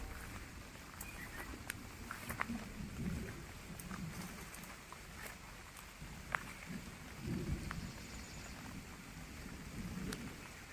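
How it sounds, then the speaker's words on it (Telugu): Steady rain pours down with low rolling rumbles of thunder in the distance and occasional sharp drips close by. "మళ్ళీ వర్షం స్టార్ట్ అయింది"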